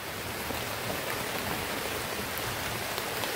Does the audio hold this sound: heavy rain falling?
yes